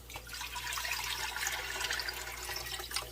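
About four cups of water pour steadily into a container for champurrado, a continuous close splashing rush over a low electrical hum, with no talking.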